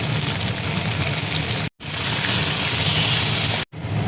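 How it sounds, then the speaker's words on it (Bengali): Chopped garlic and onion fry in hot oil with a steady, loud, hissing sizzle, close up and uninterrupted apart from two abrupt brief cuts. "এবার দেখো তেলের মধ্যে আমি রসুন কুচি দেখো দিয়ে দিচ্ছি"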